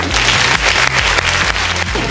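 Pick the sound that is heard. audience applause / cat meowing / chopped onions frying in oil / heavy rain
audience applause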